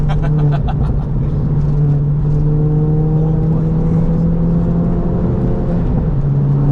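A 320 bhp stage 3 big-turbo Ford Fiesta ST pulls hard through the gears, a loud steady engine drone heard from inside the cabin with rising pitch, and voices talk over it.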